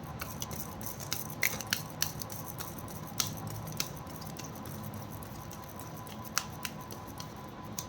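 Tarot cards are shuffled in a quiet room, giving soft, irregular riffling and sharp little snaps scattered throughout, faint and close with no speech.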